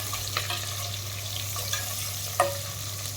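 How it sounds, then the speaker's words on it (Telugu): Onions and cashews fry together in a home kitchen pan for tomato rice, a steady low sizzle with a few sharper stir clicks and scrapes, the loudest near the end, close by and without talk. "బాగా దోరగా వేయించుకోవాలి"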